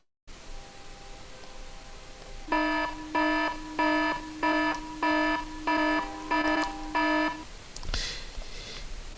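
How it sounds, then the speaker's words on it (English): An alarm sound effect rings out in eight evenly spaced bursts of harmonic beeping, loud and alone over a faint hiss, ending in a short noisy clatter. "Time to sound the alarm."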